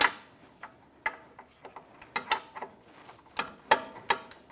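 Ratchet wrench breaking free a sway bar bolt on a 2009-2014 Nissan Maxima, with close, sharp clicking bursts in an irregular series of ratchet strokes and short pauses between them.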